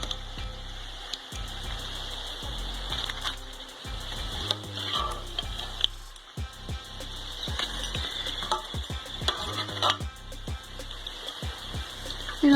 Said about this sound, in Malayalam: നമ്മുടെ ബ്രെഡ് ചിക്കൻ മിക്സ് നന്നായിട്ട് ഫ്രൈ ആയിട്ടുണ്ട്.